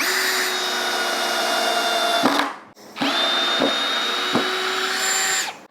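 A Ryobi ONE+ HP 18V brushless compact drill on a 1.5 Ah battery, switched to setting 1, whirs steadily in two long runs separated by a brief stop, loud and close with no talking.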